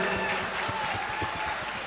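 Brief hand-clapping applause from an audience at a live comedy show, dense and steady, heard mostly alone.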